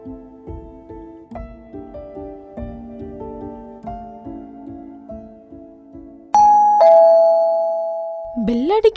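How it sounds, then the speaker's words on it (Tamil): A doorbell chime plays a run of clear, evenly spaced melodic notes indoors, then rings one long sustained tone that fades out, with a brief rising sound at the very end. "பெல் அடிக்குதா? இந்த டைம்ல யார் வந்திருப்பா?"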